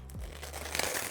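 Water-soluble stabilizer is peeled off an embroidered shirt, a brief close crinkling and tearing rustle of thin film lasting about a second, preceded by a short low thump.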